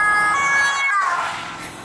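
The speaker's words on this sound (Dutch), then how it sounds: "Er komt een politie aan, of wat is dat? Ambulance." Ambulance siren passing outside, loud wailing tones that sweep and then fade as it goes by, heard alone.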